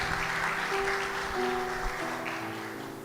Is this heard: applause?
yes